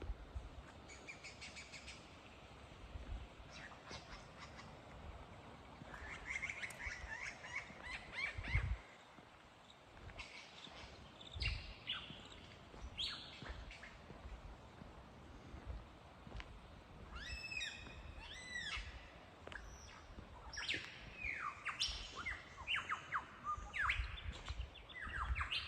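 A single lyrebird in the Australian bush runs through a string of mimicked calls: varied chirps, whistles and rapid trills in bursts, fairly close and clear over quiet background.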